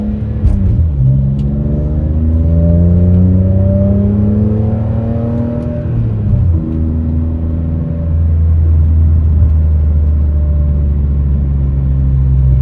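A BMW E46 M3 driving on a highway, its engine droning loudly and close with rising and falling pitch as it accelerates and shifts, steady road rumble beneath throughout.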